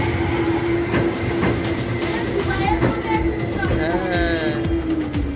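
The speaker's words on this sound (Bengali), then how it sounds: "এটা নিউ মডেলের ট্রাম" A yellow new-model tram runs through a station in Alexandria, Egypt, with a steady rolling rumble, a sustained hum and wheel squeals. Nearby voices talk over the rail noise.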